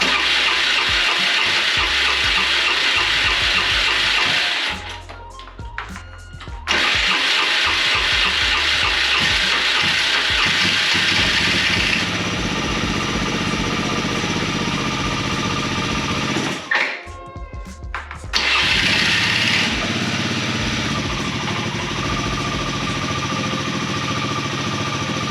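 A 500cc engine fitted to a Chevy pickup Power Wheels truck, cranked over and then idling steadily and loudly, broken by two brief quiet gaps where it cuts out before restarting.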